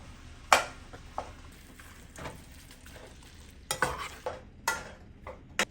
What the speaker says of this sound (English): I'm gonna start breaking the meat up.